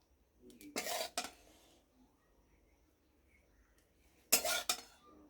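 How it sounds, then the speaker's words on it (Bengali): A spoon scoops gravy from a pan and spoons it over fried stuffed pointed gourds (potoler dorma with fish-roe filling), giving two short bursts of metal scraping and clinking separated by a quiet pause. "গ্রেভিটা তুলে পটলের মধ্যে দিয়ে দেবো"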